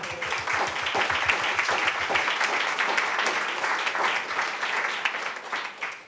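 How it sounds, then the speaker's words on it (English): An audience at a London Climate Action Week event applauds the launch of the Open Challenge, with dense continuous clapping from many hands that holds steady for several seconds. "So a round of applause for the Open Challenge launching."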